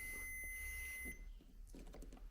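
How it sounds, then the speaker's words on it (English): A multimeter on continuity mode gives a steady high-pitched beep while checking a switch on an HOn3 model railroad layout, then cuts off, leaving faint handling noise. "there's the beep"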